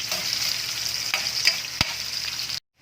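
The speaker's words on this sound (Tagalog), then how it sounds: "Uunahin na natin ilaglag ang ating ginayat na luya" Sliced ginger fries in hot oil for a beef papaitan, giving a bright steady sizzle with a few stirring knocks, close and fairly loud, before cutting off abruptly near the end; no one speaks.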